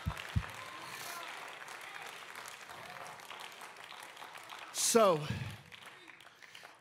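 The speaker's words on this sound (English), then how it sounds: "give him a hand clap this morning" A church congregation claps during a morning worship service, continuous crowd clapping with a voice speaking over it briefly near the end.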